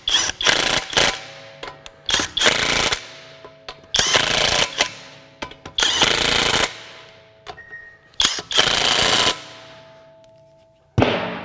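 A Kobalt 24-volt brushless mid-torque 1/2-inch impact wrench tightens a fastener in several loud, close bursts of rapid hammering. The bursts vary in length and are separated by short pauses, with faint ringing in between.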